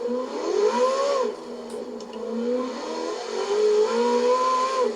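A high-pitched Ferrari V8 engine in Forza Horizon 4, driving in snow without snow tyres, revs and shifts pitch repeatedly, a steady whining drone rising and falling with no voices.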